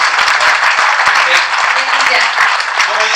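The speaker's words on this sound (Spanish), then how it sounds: "Den un aplauso, hermanos." A church congregation breaks into loud, close applause, with individual claps standing out in a dense, continuous patter and faint voices mixed in under it.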